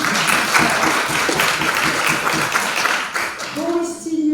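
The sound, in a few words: audience applause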